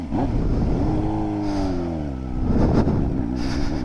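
Suzuki GSX-R600 sport motorcycle, wrecked and not ridden in a while, engine revving up and easing off as the ride starts out in the cold, steady and fairly close.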